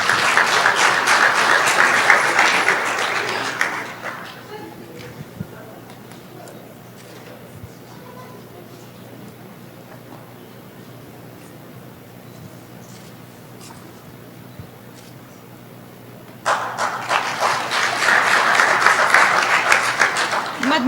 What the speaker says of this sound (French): Veuillez applaudir pour lui.